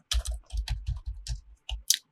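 Keyboard shortcut keys pressed on a computer running 3ds Max: a close, irregular run of clicky keystrokes with soft thumps, separated by short pauses.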